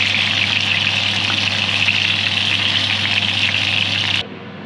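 Char siu pork fries in hot oil over high heat, giving a loud, steady, close sizzle with an underlying hum that drops away abruptly near the end.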